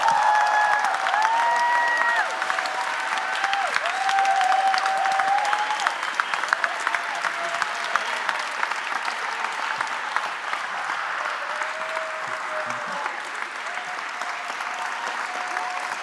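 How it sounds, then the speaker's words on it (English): A room of adults gives a long, steady round of applause at a university closing event, sustained dense clapping from a nearby crowd, with faint voices underneath. "the adults in the room just wanted to give you a big round of applause"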